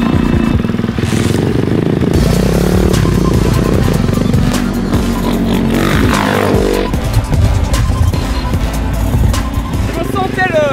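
A Honda Dax motorcycle rides along with a loud, steady engine drone and rising revs, close to the microphone, alongside clattering and wind noise; people talk over it.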